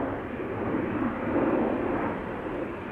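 A Tarom Boeing 737 departing Schiphol for Bucharest, a steady, loud jet engine roar with broad rumble that swells slightly midway, heard alone from nearby.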